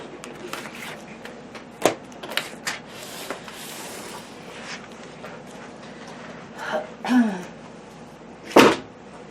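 Close shuffling and rubbing with a few soft thumps as spiral-bound coloring books are stacked in piles on a floor, ending in a sharper knock; no talking.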